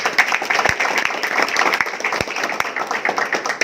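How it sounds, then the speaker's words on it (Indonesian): An audience at a company gathering claps steadily, a dense run of mid-level applause with a few sharper hand claps standing out near the listener. "Tepuk tangan."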